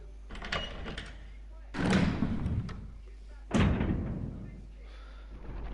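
An armoured door opening in the Resident Evil Remake game, two heavy thudding slams with echoing rumble spaced a couple of seconds apart, preceded by a brief clatter.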